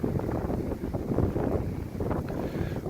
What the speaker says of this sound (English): So look at the wind just moving through the lake there.